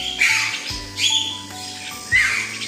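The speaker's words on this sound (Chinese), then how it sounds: "那两个老八哥带了一群小的" Free-range myna birds give three loud, harsh squawking calls in a row, close by and spaced about a second apart, with softer chirps between them.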